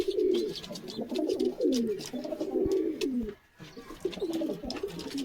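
A Kalenka pigeon coos in a loft, with repeated low, throaty rolling coos that carry on steadily close by. Faint bird chatter sits in the background, with one brief pause near the middle.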